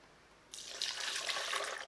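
Filtered water pours into an Instant Pot over cashews and a date for a cream sauce, a steady close splashing stream starting after a brief quiet moment and running to the end, cutting off abruptly.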